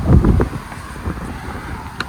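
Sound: wind outdoors

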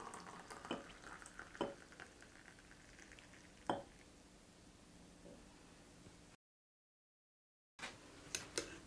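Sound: stirring hot milk into cappuccino coffee mixture

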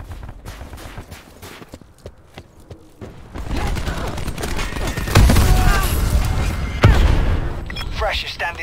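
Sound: artillery barrage striking in a video game (Call of Duty Black Ops 4)

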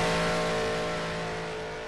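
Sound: race car engine accelerating out of Monza's Parabolica, Project Cars video game

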